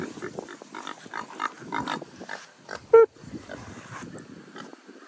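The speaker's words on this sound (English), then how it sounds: "let's go visit Mrs. Pig." A pig grunts and snuffles up close in short, irregular bursts, with one brief sharp squeal partway through.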